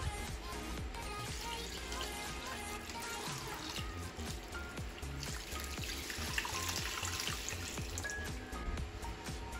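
Ten cups of water are poured into a pot of zobo drink along with watermelon, pineapple and cucumber chaff, making a steady continuous trickle and splash that lasts throughout.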